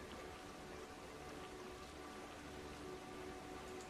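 Steady rain falls in a video game as a continuous, even wash of patter on surfaces, moderately loud and unbroken, with no voices.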